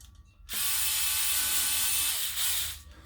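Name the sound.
screws being driven in to lock plunger rod keeper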